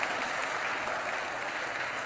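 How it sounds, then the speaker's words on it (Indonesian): Congregation at an Indonesian church sermon clapping together, a dense, steady wash of applause that holds at an even level from start to finish, with no break and no voice on top. "Tepuk tangan lagi ke sini."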